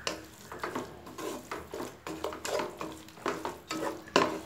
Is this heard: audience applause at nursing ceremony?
no